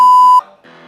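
A car's loud, steady electronic warning beep holds for under half a second, then cuts off, followed by a fainter tonal hum.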